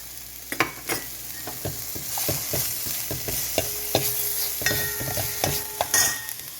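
Cabbage, carrots and mushrooms go into a pot of vegetable soup and get stirred, giving a steady run of soft clinks, scrapes and knocks from the utensil against the pot. A faint sizzle stays underneath, with no talk.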